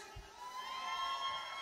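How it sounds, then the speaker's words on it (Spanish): A crowd of girls at a live cumbia concert in Trinidad shouts and cheers, a steady dense roar of voices holding at a fairly even level throughout. "¡El grito de las chicas!"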